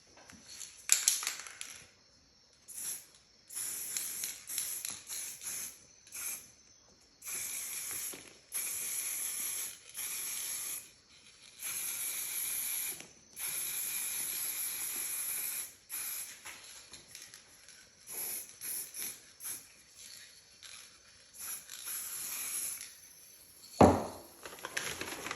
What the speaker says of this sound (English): we're just going to spray paint that.